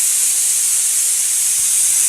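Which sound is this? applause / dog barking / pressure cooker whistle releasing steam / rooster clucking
pressure cooker whistle releasing steam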